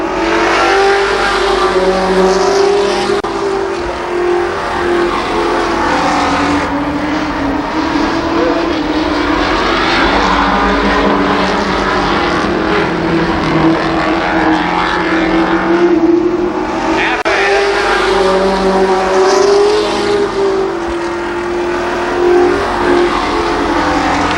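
Pro 4 race cars roar around the Columbus Motor Speedway oval in 1993, engines revving loud and steady with swells as cars pass, no voice over the din.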